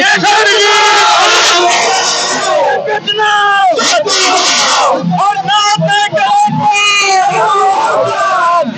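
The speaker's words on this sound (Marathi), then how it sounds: "आता हा कार्यकर्त्याचा जल्लोष आणि गुलालाची उधळण करत त्यांनी एक उत्सव साजरा करत आहेत" Party workers cheer and shout in a loud, dense crowd celebrating an assembly election result at Shirala, with overlapping yells and whoops sustained close by throughout.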